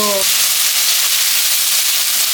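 Ginger garlic paste fries in a kadai with a loud, dense, continuous sizzle and hiss that fills the whole stretch, close up, with a brief faint tone at the very start.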